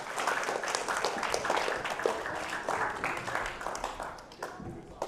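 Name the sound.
audience clapping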